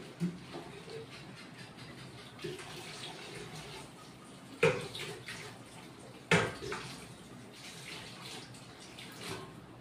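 Water runs steadily over a kadai being washed in a kitchen sink while cooking bottle gourd greens with lentils, a continuous splashing hiss with two brief louder clanks of the pan.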